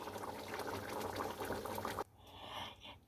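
A thick pot of chana dal with coconut and hing bubbles steadily and fairly loudly for about two seconds, then cuts to a quieter, softer simmer.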